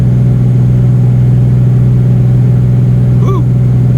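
Heavy engine drone of a 2004 truck hauling a heavy load uphill in fourth gear, loud and steady throughout, with a brief whine near the end.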